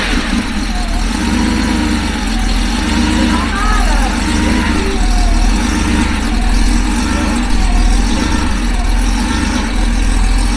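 A Porsche 930 911 Turbo engine runs at a steady rumbling idle, loud and close, with constant low mechanical drone and faint talk mixed in throughout.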